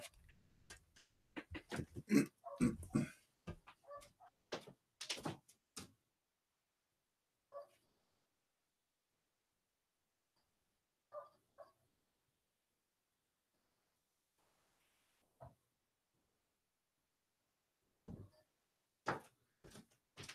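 A neighbour's dog barks outside in a quick burst of several loud sharp barks, then goes quiet apart from a few faint scattered yips, before two more barks near the end.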